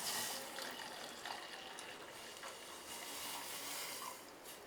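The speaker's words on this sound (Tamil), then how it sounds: "இப்போ பாலை ஊற்றிக்கோங்க." Milk being poured into a pan for masala chai, a faint, steady trickle of liquid with no talking.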